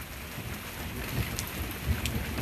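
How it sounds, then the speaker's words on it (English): Steady rain pours onto a front porch during a storm with hail, a dense even hiss of drops close by with a few heavier patters, and no voices. "fast rain, then it went slow rain, then it hailed again"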